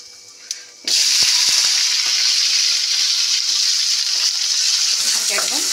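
Sliced flat beans and potatoes hit a wok of hot oil with five-spice tempering, bursting into a loud, close, steady sizzle after a quiet moment, with faint stirring scrapes and no talk.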